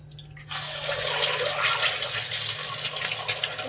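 Two eggs cracked into hot white oil in a pan, a low hum giving way to a bright, crackling sizzle that rises and keeps spitting close up.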